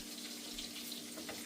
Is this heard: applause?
no